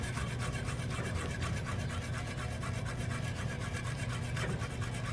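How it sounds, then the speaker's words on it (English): Polenta is whisked slowly into hot chicken stock, giving a continuous, close, rough scraping and swishing of the whisk against the pot, steady and fairly loud with no voices. "So you add it slowly and just whisk it in."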